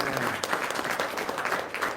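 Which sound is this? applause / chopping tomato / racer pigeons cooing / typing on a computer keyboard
applause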